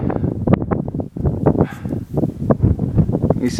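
Gusty wind buffets the microphone on a hill ridge, a continuous rumbling roar with irregular surges and rustling gusts, loud and close throughout with no voices.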